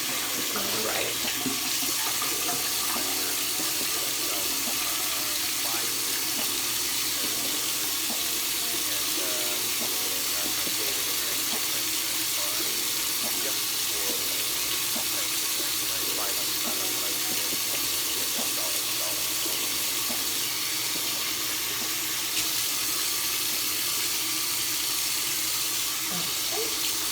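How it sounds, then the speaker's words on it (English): Tap water runs steadily into a sink while a face is rinsed by hand, a continuous close splashing hiss with faint dribbles throughout, no talking. "I'm just gonna rinse the rest of this off my face with my fingers."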